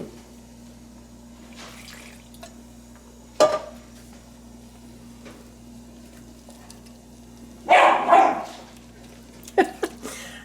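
A pet dog in a home kitchen gives a few sharp barks while playing with its toy, in short bursts separated by quiet stretches, with a steady low hum in the background and no talking.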